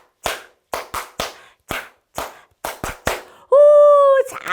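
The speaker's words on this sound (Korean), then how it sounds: "오, 박수 소리." Children clap in short, separate bursts of a few claps each during a Sunday toddler worship service, followed by a sustained sung or hummed tone.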